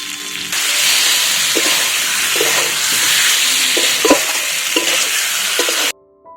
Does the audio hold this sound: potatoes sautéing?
yes